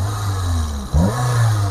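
A used car's engine in a showroom idles steadily, then revs up briefly as the throttle cable is pulled by hand, the pitch rising and settling into a smooth, higher hum; close and loud, with no talk.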